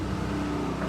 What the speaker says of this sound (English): You can hear the generator power up.